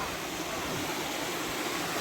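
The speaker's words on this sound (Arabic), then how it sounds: "انا جيت لواحد البلاصه فيها حتى واحد الشلال صغير" A small waterfall in the mountains of northern Morocco gives a steady, close rush of splashing water that fills the whole stretch with broad, even noise.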